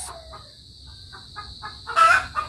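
A hen clucks in short repeated bursts at close range while laying an egg, ending with a louder, rising squawk over a faint background hum.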